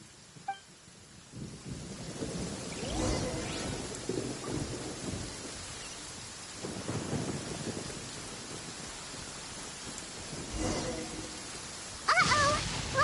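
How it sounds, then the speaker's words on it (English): In-game thunderstorm from Genshin Impact, with thunder rumbling and cracking through steady rain; loud rolling peaks recur every few seconds over a constant wash of rainfall, ending in a sharper crack. "Uh-oh! Lightning storm!"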